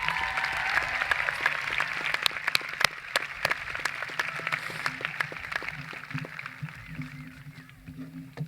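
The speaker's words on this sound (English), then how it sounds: "Can we have one more round of applause for those great student speakers?" Applause from the crowd at a 2016 high school graduation ceremony for the student speakers: dense, steady clapping that gradually thins and fades, with some voices mixed in.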